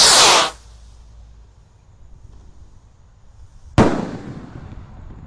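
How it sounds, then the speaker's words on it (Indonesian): A Rocket Mars Roman candle firework launches outdoors at a Ramadan evening gathering, with two loud, close whooshing bursts, one at the start and one near the end, separated by a quiet, faintly hissing pause. "Rocket Mars Roman Candle spesial ngabuburit Ramadan hari ke-22. Siap meluncur"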